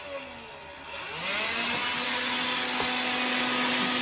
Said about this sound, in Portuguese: já tô aqui com o aspirador, eu vou tirar.